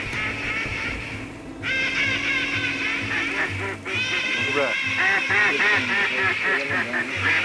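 Ducks quack on Reelfoot Lake during duck hunting season, repeated rhythmic series of loud, nasal calls close by, continuing over a low, steady background.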